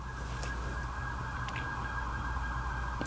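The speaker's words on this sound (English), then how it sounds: "There's some sirens" Faint emergency vehicle sirens wail in the distance outdoors, a steady tone sitting low under background traffic hum with a brief honk-like blip, no talking.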